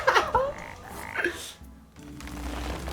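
A frog croaks from the Hearthstone card game, a few quick cartoonish croaks near the start followed by softer game effects and a low hum, with no talk.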